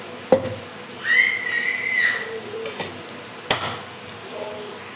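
Oil frying in a pan while a moong dal dish cooks, a steady close sizzle with a sharp clank of utensils at the start and another midway, plus a faint whistle-like tone drifting over the hiss.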